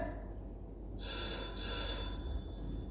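A telephone rings twice in quick succession, clear electronic trills over a faint low background hum, with no voices.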